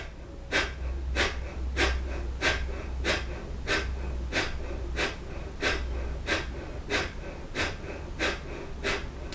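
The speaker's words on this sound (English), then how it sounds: "and then the breath of fire" Breath of fire during a yoga session: a steady run of about fifteen sharp, forceful nasal breaths, evenly paced roughly every half second, close and clear.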